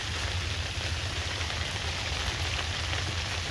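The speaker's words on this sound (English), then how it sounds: "That sound you hear is rain." Steady rain drums on an ice fishing shelter sitting on a frozen river in January, a dense, even patter with a low rumble close by, no voices.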